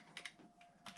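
Several quick keystrokes on a computer keyboard, tapped in two short bursts with a pause between, faint and close against a quiet room hum.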